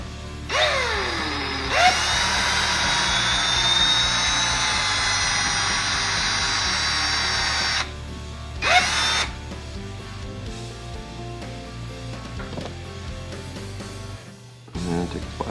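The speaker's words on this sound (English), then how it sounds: "got some tape on the drill bit just to make sure that we don't go in too deep" A power drill with tape on the bit whines loudly for several seconds drilling into a guitar body, stops, then gives one short second burst, with quieter handling sounds after.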